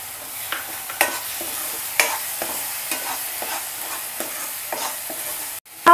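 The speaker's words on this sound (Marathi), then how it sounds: "मसाला जो आहे व्यवस्थित असा परतून झालेला आहे आणि त्याला तेलही खूप छान असं सुटलं आहे" Misal masala of chili powder, turmeric and tomato puree frying in oil, a close sizzle with rhythmic spatula scrapes about once per second, ending in a brief clatter, no speech.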